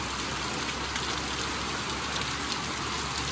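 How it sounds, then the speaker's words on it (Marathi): Steady rain pours down outdoors in a dense, even hiss with a constant patter of drops on surfaces. It is loud, close and continuous, with no voices. "आता पाऊस येऊन जाऊ नये मगापासून नव्हता आता आला आहे अचानक परत"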